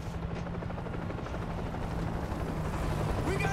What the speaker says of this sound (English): We got a chopper! It's crossing over the river.